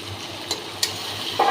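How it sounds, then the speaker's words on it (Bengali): Sliced onions deep-frying slowly in oil for birista, giving a steady close sizzle with a couple of sharp clinks of a utensil and a louder bubbling surge at the end. "তো চলছে বেরেস্তা ভাজা।"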